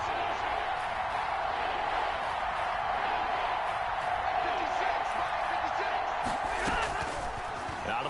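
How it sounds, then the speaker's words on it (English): Steady roar of a stadium crowd at an American football game in a video game, building ahead of a big third down, with a commentator talking over the constant crowd noise. "The crowd getting into it as we come up on a big 3rd down."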